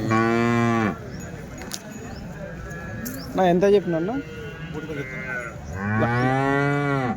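Several loud, drawn-out moos from large cows close by at a weekly cattle market in Punganur, with someone talking between them amid market background noise.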